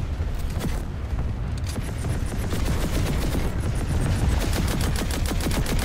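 Rapid automatic gunfire from a rifle in the online shooter PlanetSide 2, a loud dense stream of shots rattling continuously for several seconds amid battle noise, with no talk.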